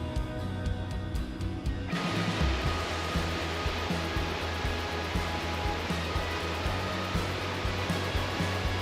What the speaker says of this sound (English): to see a waterfall we had zipped by on our way up